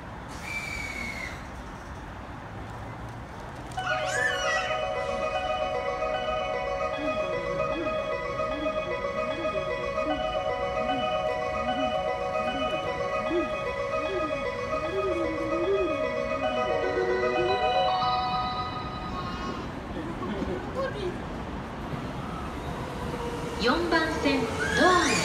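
A Sobu Line E231-series 15-car commuter train rolls into Tsudanuma station with a long tonal whine and rumbling wheels, while a Japanese platform announcement plays over the top.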